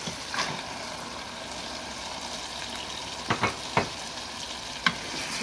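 Chicken dropped into a pan of masala frying in oil for a chicken and apple gourd shorba gives a steady, moderate sizzle, with a few sharp clicks and taps standing out near the end.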